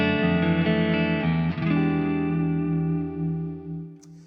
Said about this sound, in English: Our clean tone with the neck pickup without the pedal engaged sounds like this.